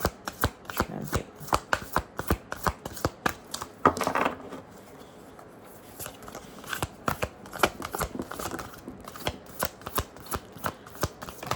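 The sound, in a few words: shuffling tarot cards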